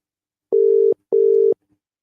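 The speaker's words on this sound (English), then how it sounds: "it's calling, but it's not ringing, so can't get through to Guy." A phone call tone after dialing, two identical steady electronic beeps of about half a second each with a short gap between them, loud and clear with silence around them and no voices.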